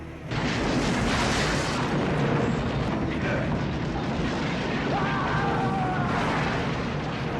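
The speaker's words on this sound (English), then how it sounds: "it was the explosion in 3 that stood out in my mind as really outstanding" A large movie-set explosion from Lethal Weapon 3 on a ranch-style home, a sustained roaring blast with heavy rumble filling the whole stretch, loud and close, with no talking.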